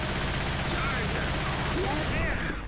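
Rapid gunfire rattles almost continuously in Left 4 Dead 2, loud and dense as players fight off a Charger. The shots fill the whole clip with short bursts layered over each other.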